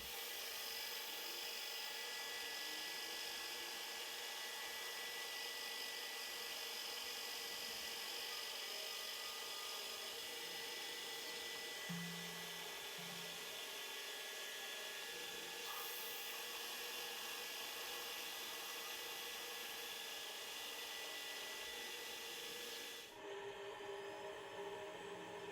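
A 4.2mm drill bit drilling a tap hole for an M5 thread gives a steady high-pitched whine continuously at low volume, with faint mechanical hum beneath and a change in tone near the end.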